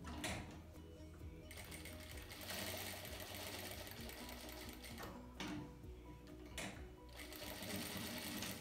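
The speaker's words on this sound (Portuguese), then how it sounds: "E vou pra máquina, pé de máquina." A sewing machine stitches patchwork fabric for a flower-shaped dish towel, a steady loud mechanical whir running almost without break. It drops briefly a few times before picking back up.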